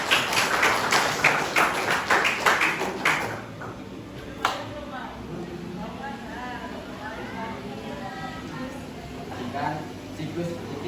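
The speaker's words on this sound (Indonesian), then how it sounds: "Ya, tepuk tangan dong untuk kelompok 4." Classmates in a high school biology lesson clap for a student group, a burst of close hand claps over the first few seconds that fades into quieter room noise and murmuring voices.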